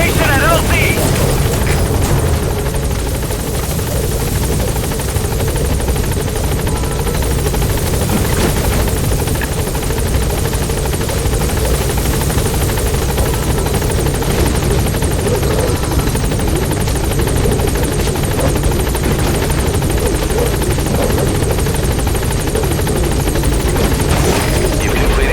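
A support helicopter arrives at a landing zone in Metal Gear Solid V, its loud, continuous rotor roar and engine drone filling the whole stretch without pause.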